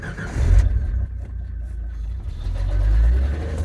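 A Jeep Comanche engine starting cold and settling into a steady idle with a new idle air control motor, a loud, continuous low rumble with a slight rise in the later part.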